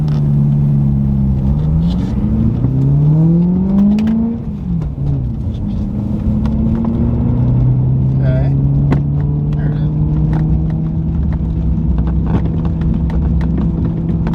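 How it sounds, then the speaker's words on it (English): A BMW E90 M3 on a rough road gives off scattered, sharp clunks and knocks from the loose front suspension over a steady engine and road drone inside the cabin, with the engine note rising and falling. "It literally sounds like something is loose up front."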